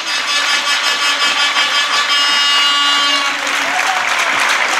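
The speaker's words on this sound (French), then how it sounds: "Elle va marquer l'essai sous les applaudissements" Spectators at a women's rugby sevens final in Tours applaud steadily as a try is scored, a dense wash of clapping throughout with a commentator's voice over it.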